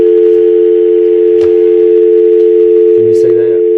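A telephone handset gives a loud, steady dial tone throughout, and a few short keypad dialing tones sound near the end while the tone continues.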